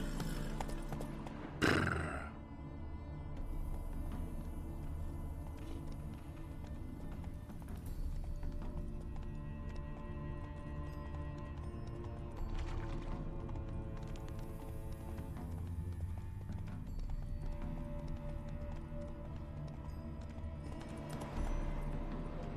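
Roach, a horse in a video game, moves with steady clip-clopping hooves and a brief whinny near the start, set against constant game ambience and music at moderate volume.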